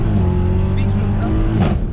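A BMW M3 F80 on 275 Michelin tyres takes a small roundabout at about 60 with a slight slide, its engine droning steadily with a brief tyre scrub, while people talk over it.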